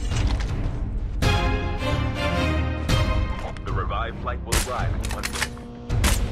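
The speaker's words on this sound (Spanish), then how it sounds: "A los primeros disparos que hice, uno se percata de mi presencia y viene por mí." Rapid bursts of gunfire in a battle royale shooter game, sharp loud cracks coming in several clusters over a few seconds, mixed with background game noise.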